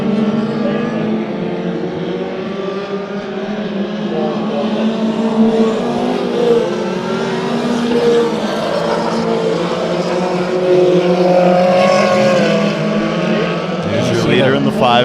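Race cars in an eight-lap heat race at Bakersfield Speedway, engines roaring loudly and steadily as the pack circles, with a public-address announcer talking over the din.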